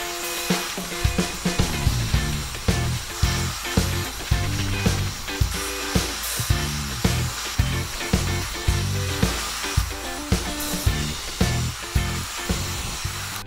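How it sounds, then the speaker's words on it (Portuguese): A hair dryer blows with a constant airy hiss while rhythmic strokes of a semicircular brush and rustling hair repeat beneath it; no one speaks. "Vamos secar essa parte utilizando a escova semicircular e o secador."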